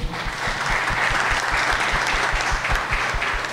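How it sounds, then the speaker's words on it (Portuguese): Lively applause from a crowd at the opening ceremony of a smart-cities hackathon festival, honoring the organizing team, with thumping low beats mixed into the dense clapping throughout. "Eu queria uma salva de palmas para toda a equipe."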